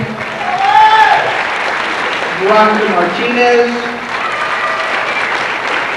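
A crowd at a 1989 high school graduation ceremony applauds the graduating class, a steady wash of clapping running under a voice reading out names.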